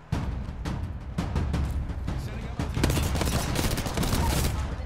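Gunfire in the Apex Legends battle royale game, dense bursts of rapid automatic shots rattling continuously through the whole stretch, loud and close, with a faint voice underneath.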